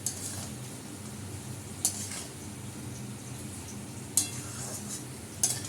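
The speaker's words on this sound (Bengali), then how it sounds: "মাংসটাও ভাজা হয়ে যাচ্ছে।" Meat frying and being stirred in a kadai, with a steady low sizzle and a few sharp metal clinks of the spoon against the pan, close and moderately quiet.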